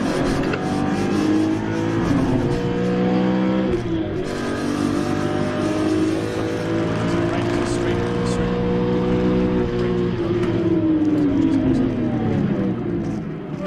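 BMW M3 Compact race car accelerating hard at the Zolder circuit, a continuous loud engine drone with rising and shifting revs through gear changes, heard from inside the car.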